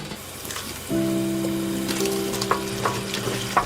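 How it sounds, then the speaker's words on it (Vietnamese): Sauce thickened with tapioca starch bubbling and frying in a pan while being stirred, a steady close sizzle with soft scraping and occasional small pops, alone without voices. "Khuấy đều hỗn hợp lên."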